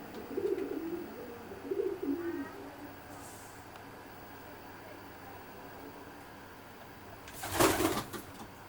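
Racing pigeons in a loft of strong young birds give two soft, low cooing phrases near the start. A quiet, steady room hum follows, then a brief burst of flapping or rustling near the end.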